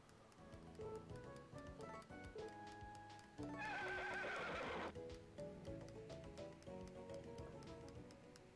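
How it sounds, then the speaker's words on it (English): A horse in a video game clip-clops at a steady pace, its hooves ringing over a musical background, with a loud, sharp neigh rising partway through before the hoofbeats carry on. "So there's my horse."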